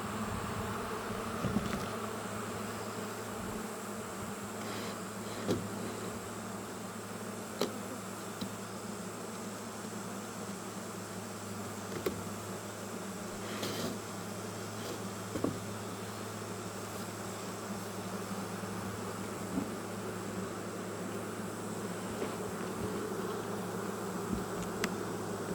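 A loud, dense drone of honeybees swarming over an open hive, constant and close throughout, with small ticks and bumps from handling.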